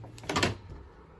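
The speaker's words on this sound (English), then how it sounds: "I always feel a bit odd opening the door into a church like that." An old stone chapel door in Macclesfield Forest is pushed open, making a short creak and thud close by, followed by quiet room tone.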